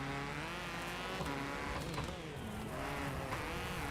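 A rally car in the WRC racing game throws a handbrake turn on a tight hairpin, engine droning loudly with shifting revs and a brief tire scrub as it swings around, no voices.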